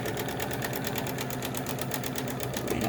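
A sewing machine stitches a fabric face mask in a fast, steady, even rhythm, running loud and close without pause.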